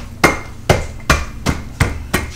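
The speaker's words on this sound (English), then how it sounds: "I'm going to try a rolling pin." A rolling pin pounds Oreo cookies in a Ziploc bag under a towel, making six sharp, evenly spaced muffled thuds with a crunching edge, close and loud with no talking.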